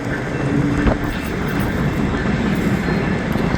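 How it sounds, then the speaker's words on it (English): A Norfolk Southern intermodal train moving down the line, a steady loud rumble of rolling wagons with a faint clickety-clack, heard alone without talk. "I also have a train coming down on Norfolk Southern"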